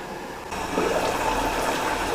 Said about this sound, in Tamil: இப்போ கிரேவிக்கு தேவையான அளவு தண்ணி சேர்த்துக்கலாம்.